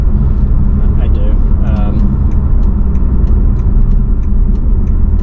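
Inside a 2018 BMW M550i xDrive on the move, a constant loud low engine drone and road rumble fill the cabin, steady throughout, with some voice-like sounds mixed in.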